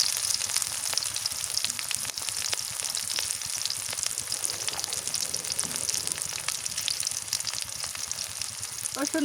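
Green chilies sizzling in hot oil in a pan, a dense continuous crackle with sharp pops and occasional stirring scrapes, close and fairly loud throughout.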